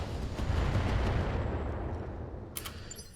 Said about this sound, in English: Let's hope that enough missiles hit the targets